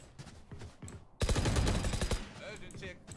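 Gunfire rattles in the tactical shooter Valorant: after a quieter stretch, a sudden loud rapid burst of automatic shots fires for about a second, then fades into scattered softer sounds.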